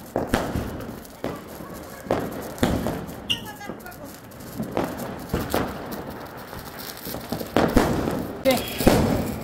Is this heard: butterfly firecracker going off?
yes